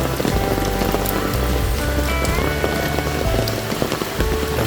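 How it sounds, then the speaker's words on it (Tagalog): Heavy rain pours down in Villasar, a dense, loud, continuous hiss of drops striking surfaces nearby, with no voices. "Ay, grabing ulan."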